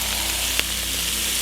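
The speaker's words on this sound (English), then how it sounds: "That sizzle though." Bacon frying in a pan gives a steady, dense sizzle throughout, close and even, with a single brief tick midway and no voices.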